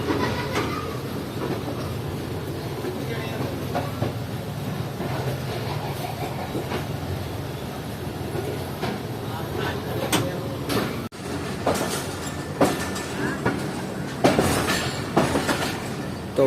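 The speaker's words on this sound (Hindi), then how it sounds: "तो अब आप देख सकते हैं कि ट्रेन एक शार्प कर्व ले रही है आगे" Train running on rails through rainy countryside toward Sialkot, heard from inside with a steady rumbling roll, rhythmic clickety-clack and occasional sharper clanks and knocks.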